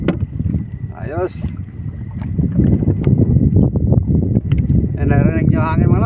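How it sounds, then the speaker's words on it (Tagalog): Strong wind rushes over the sea around a small fishing boat, a steady, loud roar buffeting the microphone, while someone speaks over it and faint higher tones come and go. "Narinig nyo hangin mga lods."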